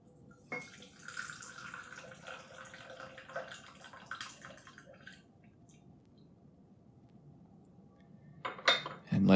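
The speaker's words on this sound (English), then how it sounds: "let's rinse this off." Water runs and splashes as a tea cup is rinsed, with light ceramic clinks; the faint, uneven rinsing fades midway, then a louder clatter and splash come near the end.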